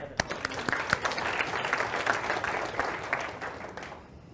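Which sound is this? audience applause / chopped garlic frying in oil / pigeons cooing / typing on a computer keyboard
audience applause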